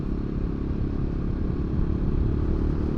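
Royal Enfield Himalayan 450 motorcycle gathering speed, a steady close engine rumble with wind noise that holds throughout, no talk.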